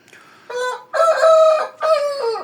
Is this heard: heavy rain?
no